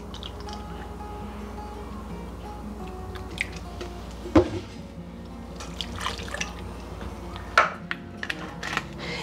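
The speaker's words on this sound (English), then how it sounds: "now I need to add 1 cup of milk and 1 cup of breadcrumbs" Milk and breadcrumbs poured into a meatloaf mix of ground beef, egg and onion in a bowl, soft liquid drips and wet squishes with a few light knocks, fairly quiet and close.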